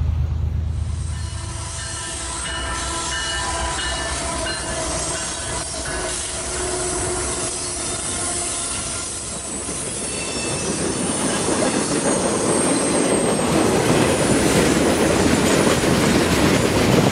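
An HO-scale model train rolls steadily along its track, wheels clicking and squealing, the rumble growing louder and closer toward the end.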